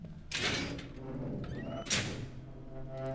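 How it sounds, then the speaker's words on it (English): Repeated heavy thumps from a paper cutter somewhere nearby in the Observer video game, two broad bursts standing out over a steady low hum, with a faint metallic ring trailing between them. "Someone's using like a paper cutter somewhere."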